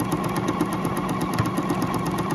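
Juki DX7 sewing machine stitching a decorative label, a continuous fast mechanical hum with a rapid even needle rhythm, close and steady throughout the short stretch.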